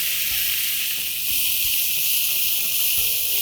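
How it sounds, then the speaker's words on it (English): Cumin seeds and finely chopped fenugreek sizzling in hot oil in a pan, a steady loud hiss with occasional small pops and crackles throughout, no voices. "let's begin with crackling some cumin seeds. And along with this, finely chopped fenugreek."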